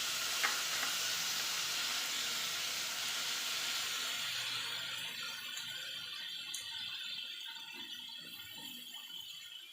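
Chopped onions frying in a pan, a steady hissing sizzle that is loudest at first and gradually softens, with faint stirring scrapes and no talking.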